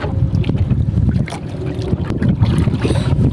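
Steady low rumble of a fishing boat engine running close by, mixed with wind buffeting and water noise, continuous throughout.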